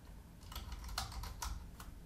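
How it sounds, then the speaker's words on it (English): Fingers type a short burst on a computer keyboard, several quick close keystrokes clicking at an uneven pace over about two seconds in a quiet room. "In this example, I'm just going to type my name."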